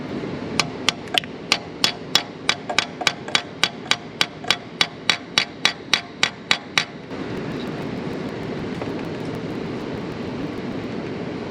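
Steady hammer blows driving a part into a 6.7 Powerstroke engine, about twenty sharp metallic strikes in a quick even rhythm for several seconds, followed by a constant low rumbling background.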